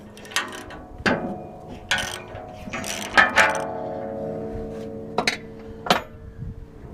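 A wrench tightening bolts while saw teeth are being changed, with a series of loud, close metallic clanks and ringing ratchet-like clicks spaced irregularly over several seconds.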